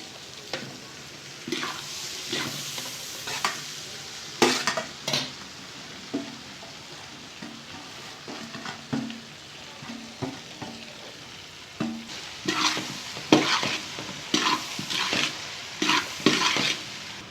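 Okra is stirred into softened tomatoes in a pan, with a spatula scraping and clattering against the metal in irregular bursts over a soft, steady sizzle, close and fairly quiet, with no talk.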